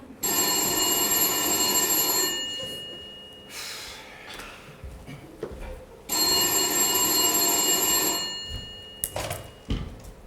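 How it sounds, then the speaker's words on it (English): A landline telephone bell rings in two long bursts indoors, with a pause between them, heard at a stage comedy murder-mystery play; faint breathing and small movements fill the gaps. "That'll be the phone."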